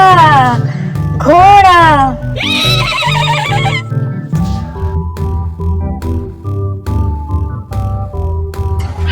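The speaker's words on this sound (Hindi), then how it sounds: "हॉर्स को उर्दू में क्या कहते हैं?" A horse whinnies in a descending series of loud, rising-and-falling calls near the start, followed by softer sounds with some voice-like activity in the background.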